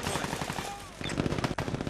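A turret fires in the video game Brink, giving rapid automatic bursts of gunfire with a brief break in the middle, loud and busy amid game noise.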